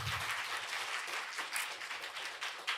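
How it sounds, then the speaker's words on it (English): Steady applause from the audience at an international academic conference for a university's 120th anniversary, a dense patter of many hands held at an even level for about three seconds. "please give Professor Lev Manovich a big round of applause"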